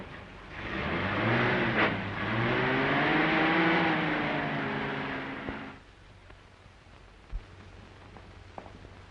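A 1930s car drives along with a steady engine hum that rises and falls for several seconds, then cuts off, leaving faint background noise and a couple of soft knocks.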